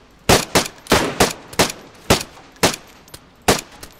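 Gunfire in the video game DayZ: about a dozen sharp, loud shots ring out at irregular intervals over four seconds, some in quick pairs, with no talking.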